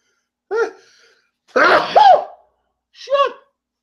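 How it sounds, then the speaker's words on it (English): A person sneezes, with a short sharp intake, then a forceful burst, and a smaller follow-up sneeze, all close and loud against a silent background with no talk. "Hold on, I'm going to sneeze."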